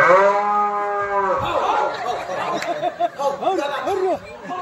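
A cow gives one long, loud, close moo, followed by laughter and people talking.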